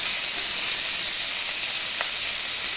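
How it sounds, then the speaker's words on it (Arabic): Meat and vegetables sizzle in a pan as they are sautéed, a loud, steady frying hiss that runs unbroken throughout. "وخليكي تقلبي بقى وتشوحيها حلوه قوي زي ما انت شايفه كده"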